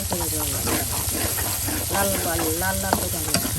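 Prawns and onions fry in a pan and are stirred, giving a steady, loud sizzle and hiss under a voice that talks over much of the sound.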